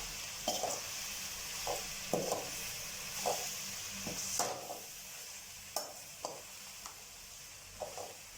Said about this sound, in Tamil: மிளகாயும் எல்லாம் சேர்ந்து வச்சு நல்லா வந்து வறுத்துக்குங்க.